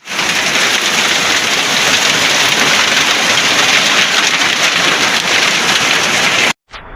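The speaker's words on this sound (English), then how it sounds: "it's not drizzling, it's raining" Heavy rain pours down in a steady, dense hiss, loud and close, with no break for nearly seven seconds before it cuts off abruptly.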